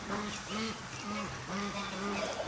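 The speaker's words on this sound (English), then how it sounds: "listen to the ducks over at the creek" Several ducks at a nearby creek quack repeatedly in a rhythmic series of calls at moderate volume, set against a low background.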